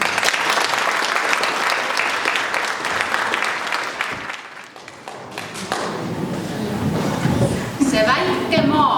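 Concert audience applauding at an Estonian Independence Day celebration in Orissaare, loud sustained clapping from many hands that thins out midway, followed by music and voices.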